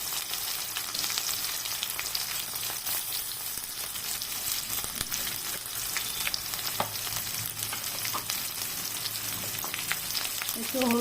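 Spices and ginger garlic paste fry in a pan for pea ghugni, a continuous crackling sizzle with scattered stirring scrapes and taps, close and steady throughout, with no talking.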